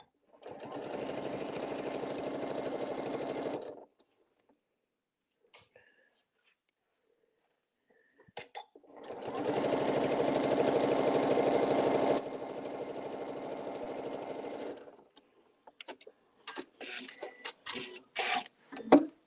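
A sewing machine stitches a quilted 4-patch table mat in two long, steady runs, the first about four seconds and the second about six, with quiet gaps between and light handling clicks at the end.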